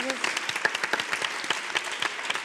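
Brief burst of audience applause at a school competition show, a crowd clapping steadily at moderate loudness for a couple of seconds.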